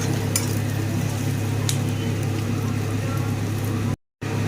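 Onions and green chillies fry in a pan for a Bihari-style chicken kosha, giving a steady, close sizzle with a few light clinks of stirring before a brief dropout near the end.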